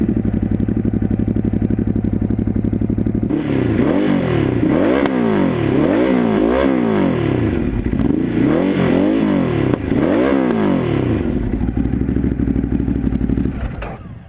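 A Ducati Hypermotard 939 fitted with an American MGP exhaust idles loudly and close, then gets a series of sharp throttle blips, about six rising and falling revs in quick rhythm, before settling back to a lumpy idle.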